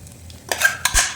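Potato 65 pieces are tossed in a pan over a low sizzle, with a couple of sharp scraping clinks of a spatula against the metal, close and brief.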